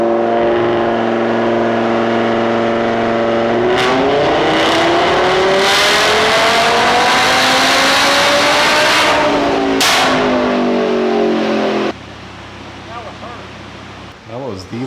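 A modified Audi RS3 on a dyno, the engine revving hard and loud in a sustained pull with rising pitch, a couple of sharp pops near the end before it cuts back to a lower idle.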